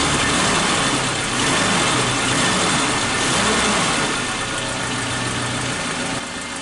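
A Suzuki Katana motorcycle engine idles roughly on one dead, fouled spark plug, close and steady, with an uneven shaking throb that continues for several seconds with no talk.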